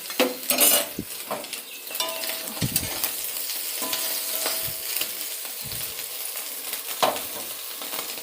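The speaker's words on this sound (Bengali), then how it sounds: "মাছ ভাজা হয়ে গেছে" Fish frying in a pan at home, a steady close sizzle broken by frequent stirring and metal utensil clinks against the pan, with no voices present.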